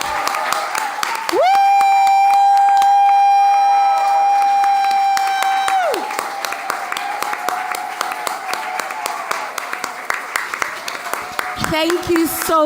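An awards-ceremony audience applauds past awardees of the Gender Just Climate Solutions Awards, a steady crowd of clapping hands with a sustained held tone running under the first part.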